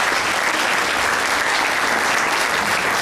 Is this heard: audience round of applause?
yes